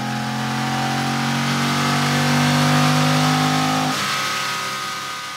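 A loud supercharged Ford 4.6-liter V8 in a GT on a dyno holds a steady high rev, its tone climbing slightly, then drops off sharply near the end, close and continuous.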